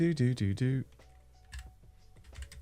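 Computer keyboard typing into a webinar chat window: a few soft, scattered key clicks follow a short, loud burst of tonal sound at the start.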